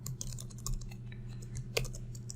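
Keys tapped on a computer keyboard while entering a line of Go code, a quick run of light clicks with one sharper keystroke near the end, close up over a steady low hum, no talking.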